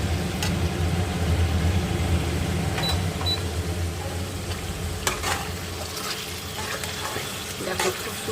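Mutton slow-frying (kosha) in a pan, a continuous sizzle with occasional spoon scrapes and clinks against the pan, close and steady throughout.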